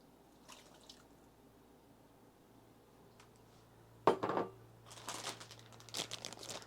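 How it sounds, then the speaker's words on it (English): Chopped potatoes, held in water, are tipped into a pot of corn chowder broth: a quiet drip, then a close wet splash and plop, followed by sloshing and wet rustling. "I'm going to add my potatoes."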